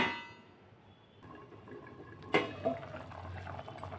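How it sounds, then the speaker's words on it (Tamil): Mutton kulambu curry bubbling in a pot covered with a plate, a faint, steady simmer with a single metallic clang and a softer clink partway through. "பாருங்கள் குழம்பு நல்லா கொதித்து வருது பாருங்கள்."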